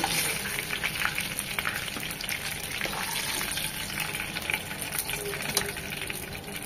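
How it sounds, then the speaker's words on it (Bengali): Hilsa fish fries in hot oil in a pan, a dense, steady crackling sizzle heard up close without pause. "যে কোনো মাছ আমরা যখন রান্না করব ঠিক এরকম হালকা করে জাস্ট 1 মিনিট করে ভেজে নেব"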